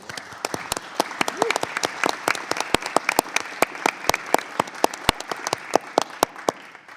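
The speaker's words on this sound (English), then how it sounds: "can we give a round of applause to all of our new members" A small group claps for new committee members at a congressional select committee meeting, individual sharp claps clearly separated and irregular, fairly close and moderately loud over a quiet room.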